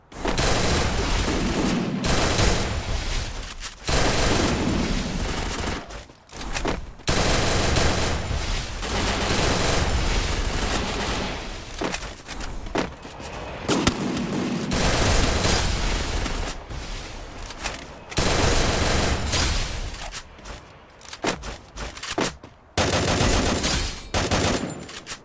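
Dense, continuous gunfire from Free Fire gameplay, with rapid automatic bursts and heavy booms packed together almost without pause, loud and up front with no speech.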